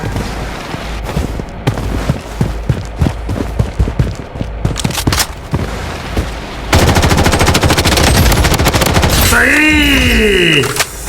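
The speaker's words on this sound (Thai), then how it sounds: "กูจะเอาปืนเลยยิงมันดี" Loud, close gunfire in the shooter game Blood Strike: scattered single shots and short bursts, then a sustained rapid automatic stream, ending with a swooping game sound effect.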